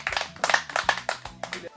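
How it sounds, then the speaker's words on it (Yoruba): A group of people at a silage training session clap their hands together in a steady, lively round of applause, loud and near, trailing off at the end. "ẹ pàtẹ́wọ́ fúnra yín"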